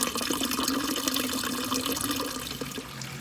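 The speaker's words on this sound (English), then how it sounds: "going to open the bathroom basin tap. Slowly open the tap." Water running steadily from a caravan bathroom basin tap, a close, continuous splashing stream with faint drips, no talking.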